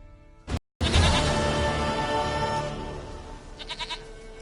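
A goat bleats loudly and close in one long, wavering cry that trails off, followed by a few fainter, fluttering bleats near the end.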